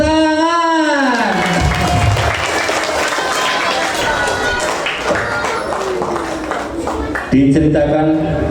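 Audience applause with cheering at a funny sermon by a Muslim preacher, a dense, steady wash of clapping for about seven seconds, mixed with voices and laughter from the crowd, before speech picks up again.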